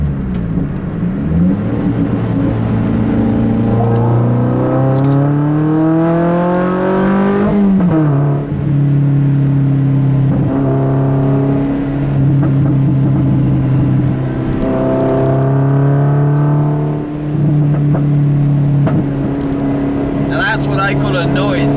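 Lotus sports car driving on a drizzly road, engine rising in pitch through repeated accelerations and gear changes, loud and close from inside, with a person speaking over it.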